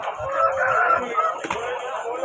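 Rooster crowing at a Sunday rooster market in Vijayawada, a loud sustained call over a busy crowd murmur for about two seconds.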